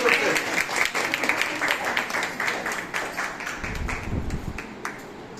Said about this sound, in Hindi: ताली बजाइए, ताली बजाइए।